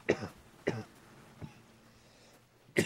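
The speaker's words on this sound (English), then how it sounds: "excuse me, I need a cough." A man coughs four times in short, sharp bursts spaced unevenly across a few seconds, close to the microphone, with quiet pauses between the bursts.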